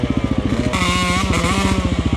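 A two-stroke dirt bike engine revs hard and close, a rapid pulsing buzz that climbs briefly in pitch, loud and alone with no voices.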